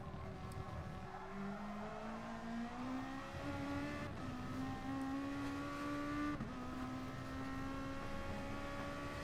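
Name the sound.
race car engine in racing video game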